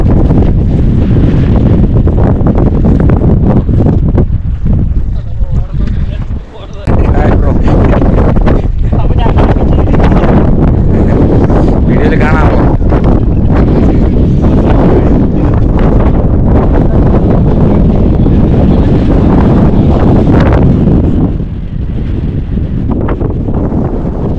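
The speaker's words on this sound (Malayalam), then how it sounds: "ഭയങ്കര കാറ്റാണ്, ഭയങ്കര കാറ്റ്." Strong, gusty wind buffets the microphone at the summit of Agasthyarkoodam, a loud, continuous roar with rustling through nearly the whole stretch, easing only briefly.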